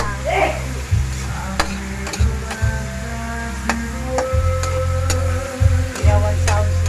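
Pork meat browns in a hot pan for pinakbet, sizzling steadily with repeated scrapes and stirs of a spatula, while a voice speaks briefly over the frying.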